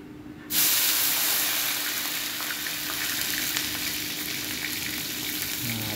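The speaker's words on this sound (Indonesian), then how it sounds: "Bila minyak ni panas, boleh kita masukkan bawang putih dan juga bawang merah." Garlic and shallots hit hot cooking oil with a sudden loud burst of sizzling about half a second in, then fry in a steady, dense hiss up close for the rest of the clip, with no speech.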